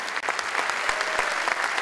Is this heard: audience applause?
yes